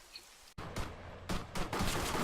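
A zombie is shot in a video game, producing a few loud bursts of gunfire in quick succession. The shots are close and dense, with no voices over them.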